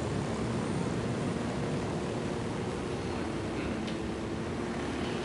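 Helicopter in the video game Ghost Recon Wildlands, a steady, broad rotor and engine roar holding constant without gaps or voices.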